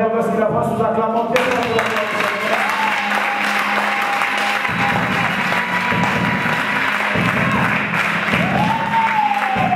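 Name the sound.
audience applauding as the pastor is welcomed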